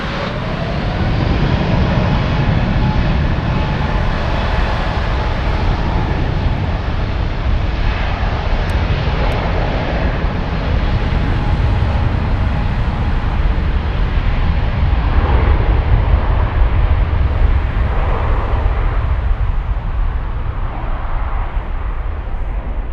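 A Lufthansa Airbus A350 bound for Seoul takes off at Frankfurt, its deep jet engine roar loud and sustained, slowly shifting as it climbs, with no voices heard.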